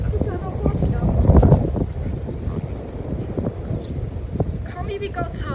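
Gusty outdoor wind roars and buffets the microphone in a steady low rumble that swells and eases, with faint voices underneath.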